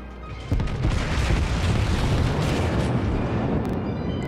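The main guns of the battleship New York fire in World of Warships, a heavy booming blast followed by a long, loud rumbling roar that slowly fades.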